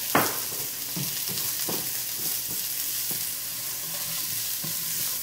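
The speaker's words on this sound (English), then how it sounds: "I'm gonna go ahead and add my onions. I'm gonna saute this." Onions sautéing in coconut oil in a pan, giving a constant loud sizzle with a few soft scrapes and taps of the stirring utensil scattered through it.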